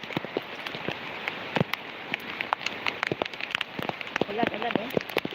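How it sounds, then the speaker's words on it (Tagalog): Steady rain falls and patters on nearby surfaces, with dense close droplet hits forming a constant hiss throughout. "Ulan eh."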